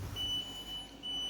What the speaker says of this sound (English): Thing's probably going to beep at me